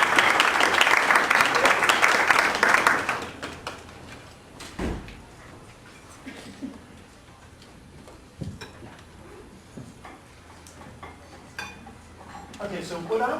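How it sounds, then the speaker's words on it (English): A room of listeners applauds for Deb at a blogging and curation talk: dense clapping for about three seconds, then it fades into scattered handling noises and a few soft taps. "let's give Deb a round of applause."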